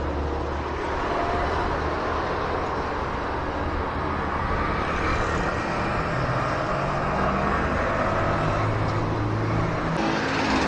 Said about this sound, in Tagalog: medyo marami-rami yung sasakyan dito